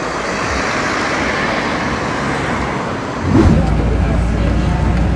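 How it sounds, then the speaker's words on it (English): Riding a bus back into Göreme in Türkiye in the evening: a continuous engine and road rumble fills the cabin and grows noticeably louder and heavier partway through. "We are on the bus."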